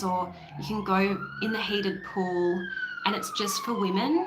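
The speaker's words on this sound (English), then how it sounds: "Sorry about the siren, it's hopefully about to go." Emergency vehicle siren wailing through a busy residential area, rising and holding a long tone close by, heard under someone talking continuously.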